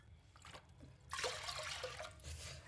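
Water is poured from a glass into a pressure cooker holding washed lentils: quiet background at first, then a soft, steady splashing pour for the last second and a half, with no talking.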